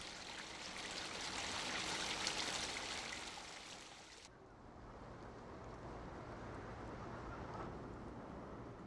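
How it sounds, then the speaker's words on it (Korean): Waterfall water pouring steadily down rock cliffs near a mountain hermitage on Mucheoksan, a dense continuous broadband rush that drops abruptly to a softer, lower flow partway through, with no voices. "장엄한 바위 절벽의 기운을 받은 폭포수는 쉼없이 흘러내려 척박한 바위들을 촉촉이 적신다."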